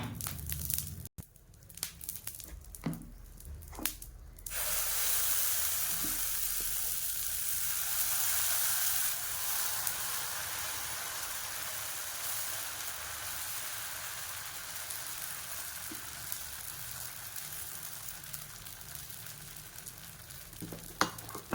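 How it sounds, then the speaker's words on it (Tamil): Dosa batter poured onto a lightly oiled dosa griddle sets off a loud, steady hiss after a few clatters, holding for many seconds close up with no talking. "இப்போ தோசை ஊற்றலாம்"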